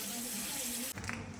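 Water running out of a joint in a house heating pipe: a steady, close rushing stream whose tone shifts abruptly partway through.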